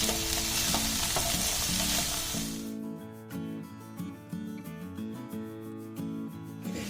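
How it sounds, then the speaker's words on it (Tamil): Okra sautéing in a pan, a steady loud hiss with scraping stir strokes and a low ringing tone; the sizzle thins partway through, leaving repeated sharp stirring clicks against the pan. "ஸோ அந்த வழுவழுப்பு போகிற வரைக்கும் நம்ம வந்து வதக்கிட்டு இருக்கணும்"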